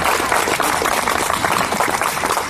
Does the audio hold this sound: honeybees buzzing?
no